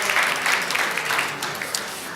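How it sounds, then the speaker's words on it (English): Short burst of applause at a school district board of trustees meeting, honoring a retiring staff member, dense clapping from a room of attendees that tapers off over about two seconds. "So yes, please a round of applause for her service."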